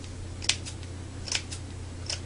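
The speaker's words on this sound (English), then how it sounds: "you're just going to make slits" Scissors cut slits in fabric to fringe a handmade flower. Two or three quick, quiet snips come close up over a low background hum.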